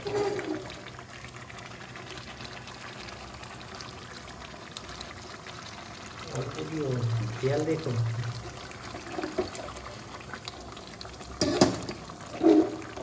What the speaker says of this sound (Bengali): পাশে গরম জল করতে দিয়েছি, এটা এর সঙ্গে আমি এবার দিয়ে দেবো